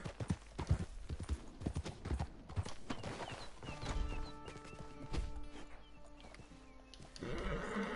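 Horse hooves clip-clop in a steady rhythm at close range, with a horse whinnying and some ambient game-like tones, no one talking.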